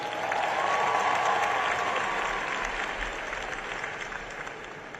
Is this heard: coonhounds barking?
no